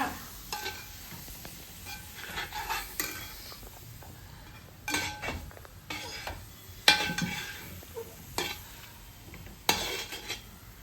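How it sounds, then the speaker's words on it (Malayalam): A spoon stirs bilimbi pickle with sugar in a pan on a stove, giving repeated scraping clinks and knocks against the metal over a faint sizzle, irregular and close, with no talking. "നല്ല ഇളക്കി കൊടുക്കണം സ്റ്റൗ ഇളക്കുക"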